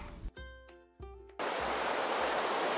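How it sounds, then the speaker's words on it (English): Ocean surf on Oahu's North Shore rushes as a steady broad wash that begins abruptly after a short burst of musical tones and thumps. "Now we see the ocean"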